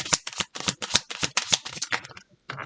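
Tarot cards being shuffled by hand, a close, quick series of crisp riffling flicks and slaps in an uneven rhythm with brief pauses between bursts.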